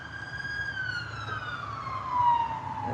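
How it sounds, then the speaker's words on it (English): An ambulance siren wails at a distance near a railway station in Ottumwa, Iowa, its steady gliding tone sweeping slowly downward as it passes, fairly faint over low background rumble. "there's an ambulance going over."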